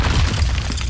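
A Depulso spell striking in the Hogwarts Legacy video game, a heavy booming impact that rumbles loudly and continuously through the whole second.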